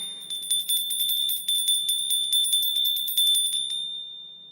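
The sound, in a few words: bell being rung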